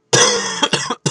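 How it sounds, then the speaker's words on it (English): A person coughing nearby during a Zelda game session: a sharp burst of several rapid, harsh coughs close to the microphone, a brief pause, then one more cough. "I apologize for coughing."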